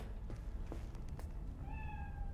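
A cat meows once in the video game Cyberpunk, a short clear call near the end of a quiet stretch of game ambience.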